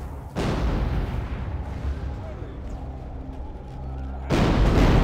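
Cannon fire in Medieval 2: Total War Americas, with a heavy booming blast opening, a sustained rumbling low roar through the middle, and a second loud boom near the end, while voices talk faintly beneath.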